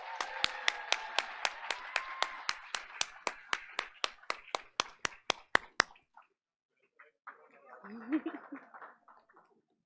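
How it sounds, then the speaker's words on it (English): Applause from the audience at a school district board of education meeting honoring a student: crisp, close, evenly paced claps over a wash of crowd clapping for about six seconds, then fading into scattered sounds and murmurs. "Audience, please give her another round of applause."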